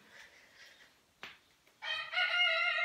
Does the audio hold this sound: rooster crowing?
yes